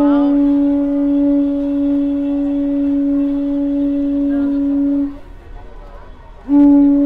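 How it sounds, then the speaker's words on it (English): Car horns honk at a peace march in Nuuanu, a loud sustained horn blast holding steady for about five seconds, then a short gap before another blast starts. "you can hear all the honking"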